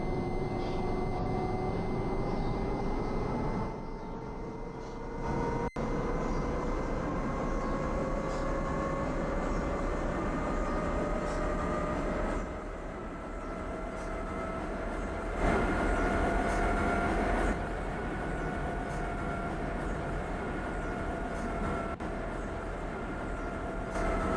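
A Tatra RT6N1 low-floor tram runs through Ostrava in the Roblox game Rails of Ostrava. A steady rolling rumble carries a slowly rising motor whine, with a few clicks and shifts in level but no talk.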